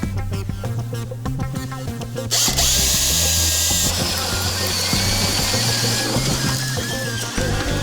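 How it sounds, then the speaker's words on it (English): A power drill with a 2 9/16 bit bores through wood in a basement, a loud steady whine that rises sharply in pitch as it bites in, close and continuous, with no voices. "We're gonna drill right through there at this point with the 2 9/16 drill bit."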